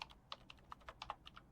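Fingers tap a computer keyboard in quick, irregular keystrokes, faint and close, over about a second and a half.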